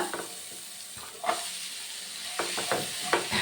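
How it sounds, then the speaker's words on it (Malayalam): Vegetables sautéing with turmeric powder in a pan give a steady sizzle, broken by a few spoon scrapes and stirring clatters, close up with no talking. "മഞ്ഞൾപ്പൊടിയും കൂടി ഇട്ട് വഴറ്റുവേ"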